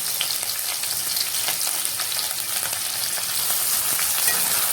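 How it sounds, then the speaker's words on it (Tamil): Sliced onions and curry leaves fry in hot oil in a pan for a kudal kulambu, giving a steady, dense sizzle that stays close and even throughout with no voices. "வெங்காயம் நல்லா செவந்து நல்லா வதங்கணும். இது கூடயே கருவேப்பிலை சேர்த்துக்கிறேன்."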